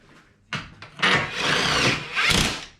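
A power screwdriver runs in short bursts and then longer whirring runs, driving screws into a BMW 645i V8 starter motor up close.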